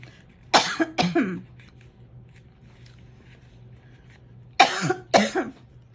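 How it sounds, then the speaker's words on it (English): Two pairs of sharp coughs, one pair early and another a few seconds later, close and fairly loud, with quiet room hum in between. "I'm gonna stop for just a second to cough."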